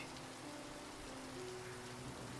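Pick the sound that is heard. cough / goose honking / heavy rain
heavy rain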